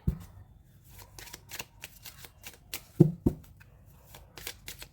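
Tarot cards are shuffled close by in a quiet room, producing a soft, irregular series of papery riffles and slaps with a couple of firmer taps partway through.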